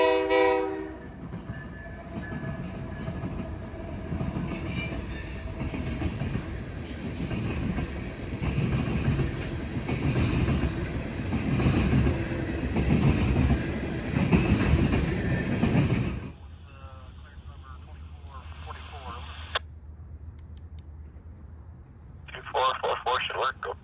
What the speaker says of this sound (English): a CPKC grain train snuck up on me